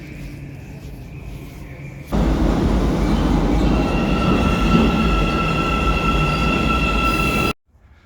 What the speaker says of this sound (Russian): Поедем, прокатимся на метро